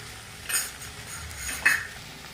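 A spoon stirs okra bhaji with a little coriander in a pan, giving two brief scraping clinks about a second apart over a quiet background.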